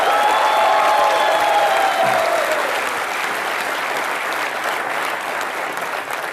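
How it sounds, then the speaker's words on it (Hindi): A studio audience on a comedy talk show bursts into loud, sustained applause after a tribute to two cricketer brothers, dense clapping that holds steady and slowly eases off. "जोरदार तालियां।"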